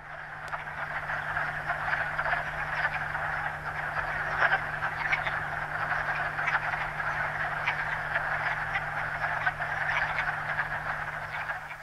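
Wood frogs at a fishless vernal pool near a swamp, a dense chorus of steady, overlapping croaks that holds for the whole stretch with no talking.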